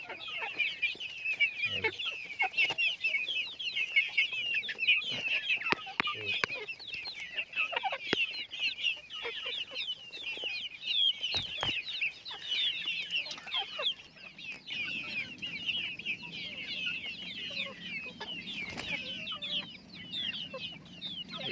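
Soft, continuous clucking and chirping from chickens, including a sick hen that struggles to walk, fairly quiet with occasional faint knocks.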